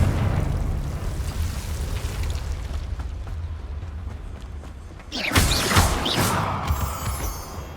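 A Confringo blasting spell bursts in Hogwarts Legacy, a sudden loud crackling blast after a stretch of low rumbling ambience, with bright fizzing debris trailing off.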